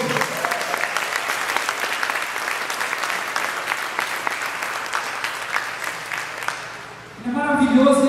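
A church congregation applauds steadily for about seven seconds, a dense, loud wash of clapping that then gives way to musical tones.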